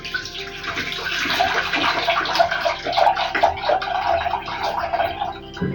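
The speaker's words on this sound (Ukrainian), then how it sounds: "Я знімаю кришечки з банок і знову зливаю маринад у кастрюльку." Marinade for a no-vinegar tomato preserve, tinted dark with basil, pours from jars back into a pot as a steady, close splashing stream that runs without a break.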